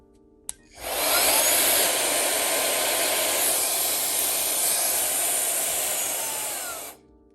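A SUNPOLLO 2-in-1 air duster and vacuum switched to its blow setting lets out a loud, steady high-pitched whine with rushing air, starting after a brief click and running evenly for about six seconds before cutting off.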